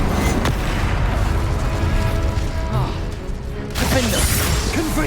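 The Incendio fire spell in the video game Hogwarts Legacy erupts in booming, crashing bursts of flame over a dense, continuous rumble of game action, with voices talking over it.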